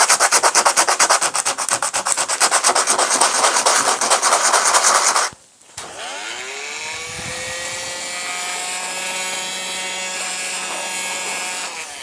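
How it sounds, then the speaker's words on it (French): Coarse 40-grit sandpaper rubbed hard and fast back and forth, loud and close, in rapid rhythmic strokes for about five seconds, then a brief stop and a different steady whirring tone with a sliding pitch. "Donc on va déjà commencer avec le gros pour enlever le gros. Donc du grain 40."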